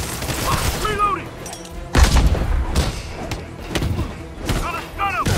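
Gunfire during a Spider-Man video game boss fight against Shocker: repeated thuds, blasts and impacts come in bursts amid game sound effects, with character voices calling out over the action.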